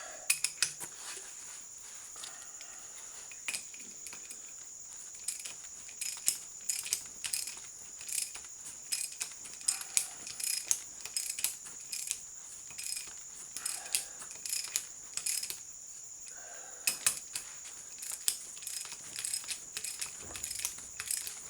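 A wrench ratchets and clicks in short irregular bursts while bolts are tightened on a Ford 9 inch ring gear, with small metallic taps and quiet pauses between.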